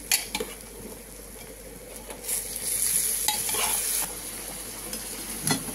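Banana flower being stirred slowly in a hot pan with a spatula, producing a steady sizzle and scraping strokes, fairly close, with occasional soft clinks of the utensil against the pan.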